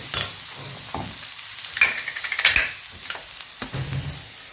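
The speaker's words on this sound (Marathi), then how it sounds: "हळद घातल्यानंतर कांदा दोन मिनिट भाजून घेऊया" Onion roasting in a pan with turmeric, a low continuous sizzle broken by several scraping stirs and light spoon knocks on the pan, close and fairly quiet, with no voices.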